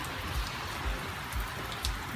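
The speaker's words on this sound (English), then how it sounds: "Here we are in Perth, Western Australia, middle of summer, and it's bucketing with rain." Heavy summer rain bucketing down in Perth, Western Australia: a thick, constant roar of drops on surfaces with faint recurring low thuds, close and unbroken, no speech.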